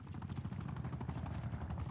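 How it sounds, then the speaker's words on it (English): Watchdog helicopter hovering overhead in Black Ops 6: a steady, dense rotor drone with rapid chopping pulses, continuous and fairly loud throughout, with no talking. "Watchdog Helo on station above."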